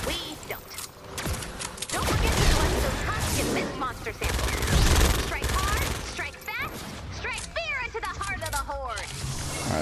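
Rapid gunfire from a pistol or SMG in the video game Fortnite Save the World, bursts of sharp shots under a busy mix of game effects, explosions and chatter, with someone talking over the action.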